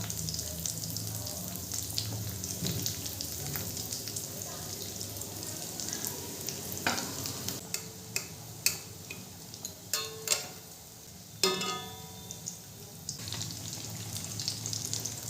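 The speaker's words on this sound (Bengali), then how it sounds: "আবারও ওই তেলের মধ্যে আমি বাকি চপগুলো দিয়ে দেব।" Egg chops deep frying in a pan of hot oil, a steady low sizzle throughout with a few sharper clinks and taps near the end as pieces are added or moved.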